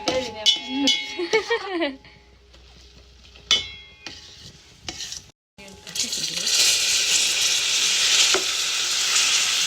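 Food caramelizing in a hot pan while being stirred, a broad steady sizzle that swells in the second half, preceded by someone talking and some scraping and clinking of utensils.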